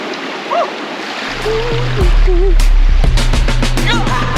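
Water of a mountain stream rushes steadily, with birds calling intermittently; the broadband wash holds throughout and grows louder midway, while a person nearby makes brief vocal sounds.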